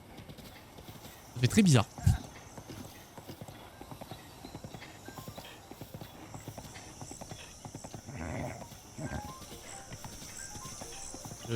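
Horse hooves clip-clop steadily on a path in Zelda: Breath of the Wild, a game horse trotting with a brief louder burst and a whinny near the start, and a person talking over the hoofbeats.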